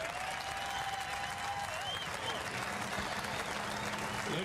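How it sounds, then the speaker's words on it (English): A race-day crowd at the 2018 Lucas Oil 150 applauds military service members, a steady wash of clapping and cheering across the grandstand that carries through the whole stretch with a faint tone and some voices underneath. "Let's give these brave men and women a round of applause."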